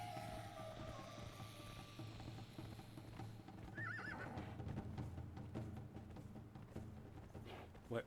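A horse in the Conan Exiles video game gives a wavering neigh in the middle, faint and under a steady low hum with soft clopping hoofbeats.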